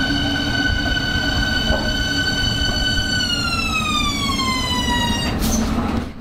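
Berlin S-Bahn class 483/484 electric train from 2021, in service on line S47, rolls past with a steady loud rumble and layered whining motor tones that glide down in pitch as it slows; no voices.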